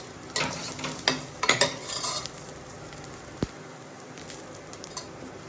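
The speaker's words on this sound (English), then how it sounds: "now saute it, add turmeric powder" Moong bhaji sautéing in a pan with garlic and turmeric powder on an induction cooktop: a spoon stirs and scrapes through the frying mixture in uneven bursts over a steady sizzle, with no voices.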